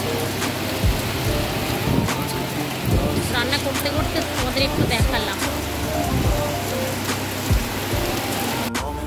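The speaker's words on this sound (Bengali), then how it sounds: "খুব জোরে বৃষ্টি হচ্ছে" Steady heavy rain pours down beside a pond, a dense hiss throughout, while a voice speaks over it.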